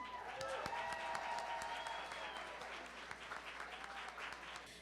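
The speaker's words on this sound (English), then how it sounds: "Let's clap it up for them one more time." A crowd applauds steadily, dense clapping filling the room at moderate volume, with a few voices faintly mixed in.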